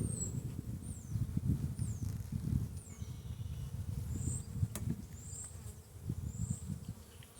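Honey bees buzzing at an open honey production hive, a dense, close, continuous low hum with individual bees droning past, alongside faint high bird chirps in the background.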